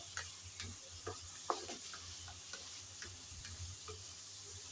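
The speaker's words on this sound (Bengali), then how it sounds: "নেড়ে চেড়ে চিচিঙ্গা ভেজে নিলাম।" Snake gourd (chichinga) stir-fried in a pan, heard as faint irregular spatula taps and scrapes over a soft, low sizzle with no talking.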